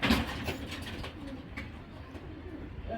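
Racing pigeons coo softly in a loft, low throaty calls repeating over a busy background of rustling and movement, nearby and moderately loud.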